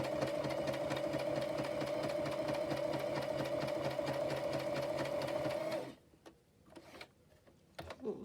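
A sewing machine runs a steady stitch for about six seconds with a fast, even mechanical hum close by, then stops, leaving a few faint clicks and handling noises.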